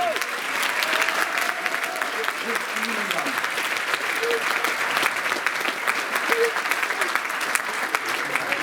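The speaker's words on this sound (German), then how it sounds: "Einen großen Applaus, meine Damen und Herren" A school-leavers' variety show audience of the 2023 graduating class greets a performer with a long, loud, sustained round of applause and scattered cheers, with a few voices rising faintly through the clapping.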